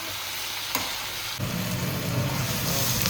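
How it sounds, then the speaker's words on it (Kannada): Dried red chillies frying in hot oil give a steady, dense sizzle that swells louder partway through as they are stirred, close and continuous with no talk. "ಇದನ್ನು ಸ್ವಲ್ಪ ಚೆನ್ನಾಗಿ ಫ್ರೈ ಮಾಡ್ಕೋಬೇಕು"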